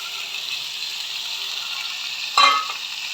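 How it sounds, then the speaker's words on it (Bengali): Onion and chicken fry in hot oil, giving a steady close sizzling hiss, broken once by a brief louder crackle as the pan is stirred. "যখন তেলগুলো গরম হবে এর মধ্যে আমি দিয়ে দেবো পেঁয়াজ, কেটে রাখা চিকেন"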